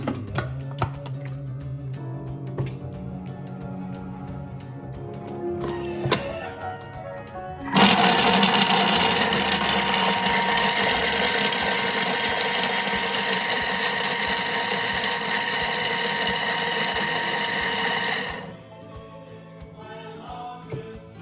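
A Thermomix TM6 kitchen machine starts up amid light kitchen clatter and runs with a loud, steady whirring buzz for about ten seconds before winding down.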